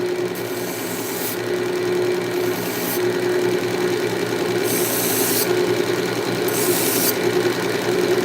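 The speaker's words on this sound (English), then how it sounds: "Scotch-Brite on the bevels" A Scotch-Brite pad rubs along knife bevels in several bursts of hissing scuffing over a steady machine hum running throughout the workshop.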